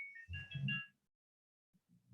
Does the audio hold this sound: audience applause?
no